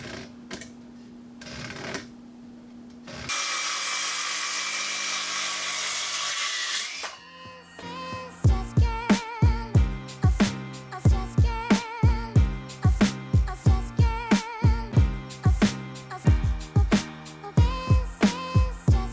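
A power saw cuts through 2x4 wooden boards in one loud, steady burst of a few seconds. A low hum comes before it, and sharp rhythmic knocks follow.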